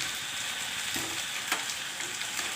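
Chopped potatoes, three of them, drop into a pan of frying chicken curry, giving a steady, close sizzle with a couple of soft splashing thuds as they land.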